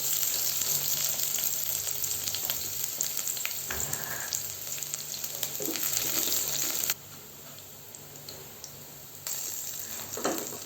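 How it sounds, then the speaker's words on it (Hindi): Rice tempered in a hot pan with finely chopped onion and shahi jeera sizzles and crackles loudly and continuously up close, easing to a quieter fry partway through before briefly rising again. "चावल बघार देंगे हम।"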